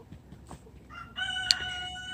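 A rooster crows among free-ranging chickens on rural land with wild-growing plants, a single clear cock-a-doodle-doo rising after a second of quiet outdoor ambience and holding steady, close and fairly loud.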